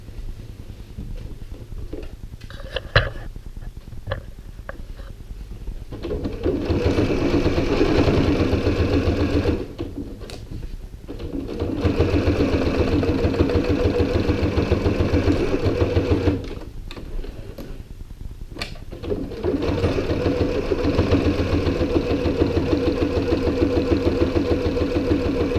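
A sewing machine stitches Velcro onto a fabric MacBook Pro sleeve in three long runs of steady, rapid stitching separated by brief pauses and small handling clicks.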